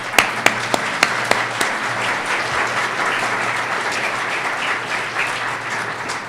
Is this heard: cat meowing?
no